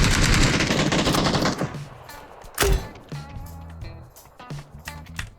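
Gunfire in the video game PUBG: a loud, rapid automatic burst fills the first seconds, followed by a heavy single shot and scattered lighter game sounds.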